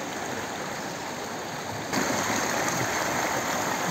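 Steady rushing of river water flowing downstream from a dam in Wettingen, Switzerland, a continuous broadband roar that grows a little louder halfway through, with no voices.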